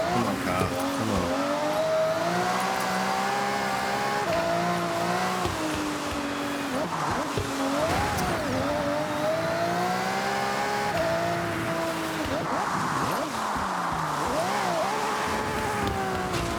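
A rally car in Forza Horizon 6 on an icy rally stage drives with a steady high engine drone that rises and falls through gear changes, with tire squeal mixed in, continuous and loud, under intermittent talk.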